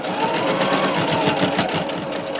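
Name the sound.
sewing machine stitching a face mask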